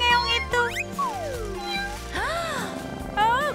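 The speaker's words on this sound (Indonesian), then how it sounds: "Siapa yang mengeong itu?" A cat meows several times, close and clear, with drawn-out rising and falling calls, some of them whiny and overlapping, over faint background noise.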